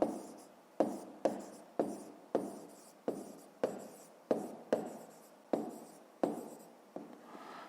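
A pen or chalk writes out a fifth-grade math solution in a series of about a dozen distinct strokes, each a sharp scratchy onset fading out, steady and close with no speech.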